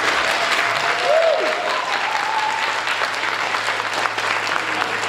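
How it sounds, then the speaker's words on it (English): Steady audience applause for a panel of sci-fi and fantasy authors fills the room for several seconds, dense and even, with a faint whoop rising over the clapping. "you guys can give our panelists a round of applause"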